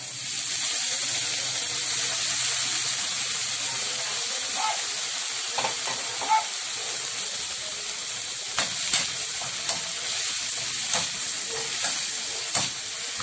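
Sliced carrots and cabbage stir-frying in a hot pan make a steady bright sizzle, with scattered scraping clicks of stirring toward the end.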